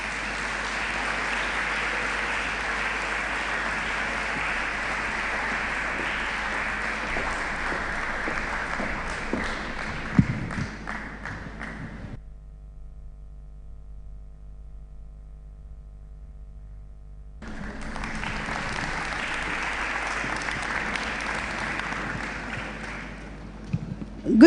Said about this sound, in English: with a resounding round of applause, can we please invite upstage Ms. Theresa Osei-Tutu.